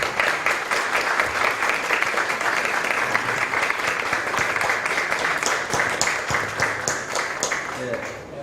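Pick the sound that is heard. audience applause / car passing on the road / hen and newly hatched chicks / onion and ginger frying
audience applause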